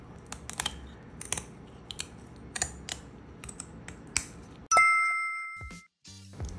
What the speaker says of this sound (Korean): 항문에서부터 가위로 조심해서 잘라준 다음